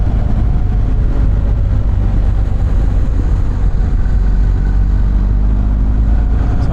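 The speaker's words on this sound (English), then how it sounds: "You guys can hear the engine." A BMW R1250 GS Adventure motorcycle engine runs steadily nearby, a loud, continuous low throb with slight fluctuations and no speech over it.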